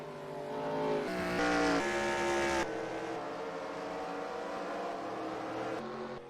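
Race cars move along pit road in the eNASCAR Heat racing video game at Las Vegas, engine tones rising and shifting in pitch with abrupt changes as cars pass, fairly quiet and without talk.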